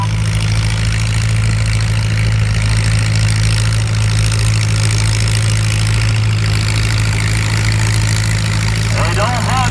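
An old Minneapolis tractor engine runs at a farm stock tractor pull, a loud, steady low rumble holding constant throughout while an announcer talks over it outdoors.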